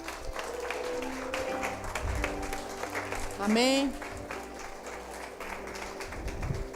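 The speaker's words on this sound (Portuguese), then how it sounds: "Dê um aplauso ao Senhor por isso." A church congregation claps during a worship service, a mid-level patter of hands running under a preacher's continuing speech, with a short word called out partway through.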